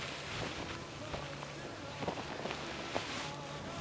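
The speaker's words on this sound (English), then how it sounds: "It's windy." Faint wind blows outdoors in a dry desert opal-mining area near White Cliffs, New South Wales, a low steady buffeting against the microphone with a few soft thumps and rustles.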